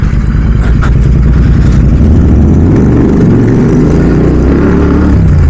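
A Royal Enfield GT650 motorcycle fitted with a Red Rooster exhaust rumbles loud and close, its deep throbbing beat steady throughout with slight swells in revs.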